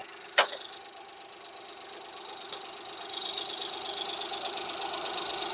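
Maruti Alto LXi petrol engine idling with the bonnet open: a steady, moderately loud hum with a light knocking rattle and one sharp click near the start, running continuously without speech.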